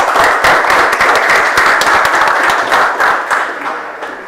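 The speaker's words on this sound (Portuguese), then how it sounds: "Salva de palmas aí." A council chamber audience in Criciúma breaks into sustained applause, dense clapping from many hands that holds steady and loud before easing slightly toward the end.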